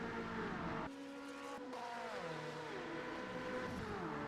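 Ferrari and Porsche GTE race cars roaring along a track in an endurance sim racing game, loud layered engine tones climbing and falling as they accelerate and shift, sustained with no talk.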